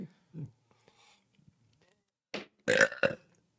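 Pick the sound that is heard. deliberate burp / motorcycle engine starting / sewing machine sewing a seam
deliberate burp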